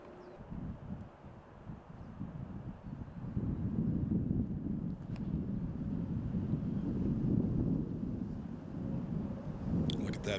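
Steady wind gusting across an open disc golf course during a Masters world championship round, a loud continuous rumbling roar with buffeting microphone noise that swells after the first few seconds and holds, with no voices.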